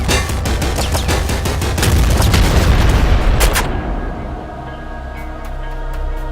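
Machine gun fire in Nuclear Throne: a loud, rapid stream of rattling shots over a heavy low rumble for about four seconds, breaking off into a humming, droning tail.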